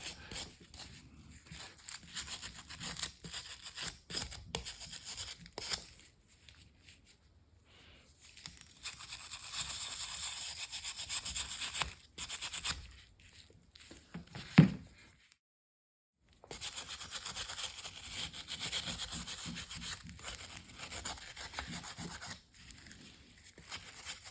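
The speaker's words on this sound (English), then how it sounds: "Just a quick clean off. Just get the rust that's just sitting on the surface off." Dry scraping and rubbing as surface rust is scrubbed off old pruning shears, coming in irregular strokes and bursts that are quiet and close, with a short pause partway through.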